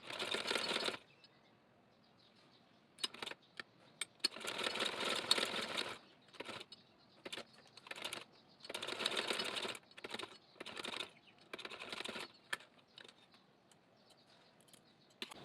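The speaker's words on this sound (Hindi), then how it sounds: "फिनिशिंग के साथ हमने स्लोली स्टिचिंग करते जाना है।" Sewing machine stitching fabric for a neck design, running in several short bursts of rapid needle chatter separated by near-silent pauses and faint handling noises.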